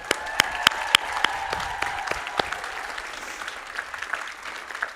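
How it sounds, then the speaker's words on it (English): A graduation commencement audience at Loyola Marymount University applauds the graduates' supporters, with a brief burst of scattered claps at first that settles into a thinner, steady patter of applause from a large crowd, heard at some distance. "Class of 2026, let's give a round of applause to your supporters."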